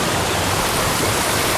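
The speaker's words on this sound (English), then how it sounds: "cool little brook areas" Small mountain brook flowing in the White Mountains near a trailhead, a dense close rushing of water with no other sounds.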